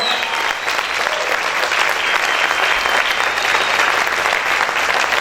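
A church congregation claps loudly and steadily, a dense wash of many hands sustained throughout without pause.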